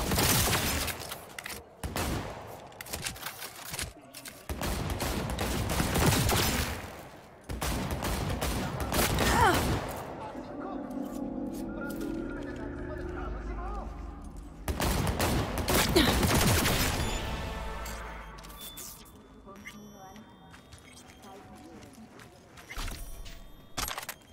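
Rapid automatic gunfire from the video game Cyberpunk 2077 comes in long dense bursts with brief pauses, loud and close, mixed with game effects and mechanical clatter.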